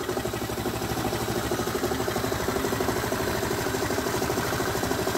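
An Aprilia Scarabeo 100cc scooter engine idles steadily with a fast, even putter and vibrating rumble, close by and continuous, with no talking.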